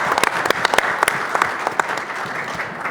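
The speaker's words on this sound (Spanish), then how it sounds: "Un aplauso para Enrique también" Audience at a public security forum panel in Chile breaks into steady applause, a dense wash of many hands with sharper individual claps standing out near the front.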